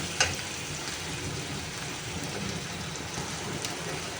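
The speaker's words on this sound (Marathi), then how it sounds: "एक दीड चमचा आलं लसूण पेस्ट टाकलेली आहे ही पण तेलामध्ये चांगली परतून घेऊया" Ginger-garlic paste and onion sizzle steadily in hot oil while being stir-fried for vegetable fried rice, a constant close crackling hiss with a brief clatter near the start and no talk.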